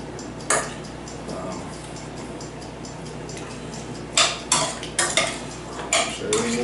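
A utensil clinks and scrapes against a pot while beans and beaver meat are stirred, a few sharp metallic knocks near the end over a low background hum, with faint talk.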